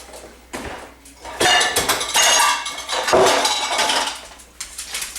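Big cooking pan handled in a kitchen, giving sharp metallic clanks, scrapes and clatters close to the microphone, several bursts in quick succession.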